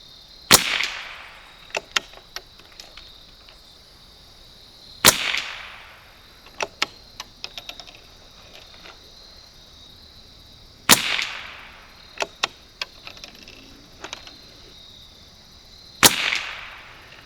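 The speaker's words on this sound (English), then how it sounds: "we'll go right, we'll go up, one click, and then we're gonna shoot our groups" A 1972 Anschutz Model 54 match rifle firing SK Standard Plus ammunition at a range, four sharp loud shots spaced several seconds apart, with quieter clicks and handling noises between them and no talk.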